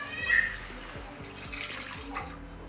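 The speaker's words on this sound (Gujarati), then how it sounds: "હવે આપણે 1 ગ્લાસ જેટલું પાણી એડ કરશું." A glass of water is poured into Manchurian sauce cooking in a pan, giving a run of rhythmic gurgling glugs and splashes at close range, fairly quiet, with no one talking.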